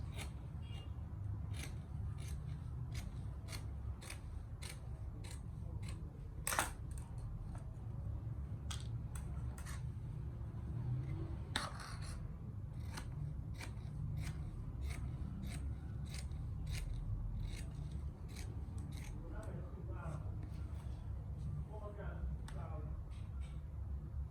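Scissors cut through jacket fabric in a quick series of crisp snips, close and distinct, repeating steadily over a quiet room hum with a faint voice occasionally underneath.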